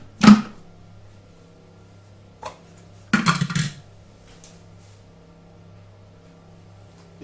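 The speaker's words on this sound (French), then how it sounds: "Je remets mon couvercle" A Thermomix lid being put back on in a kitchen, with a sharp clack, a faint knock, then a cluster of scraping clatters as it settles into place against a quiet background hum.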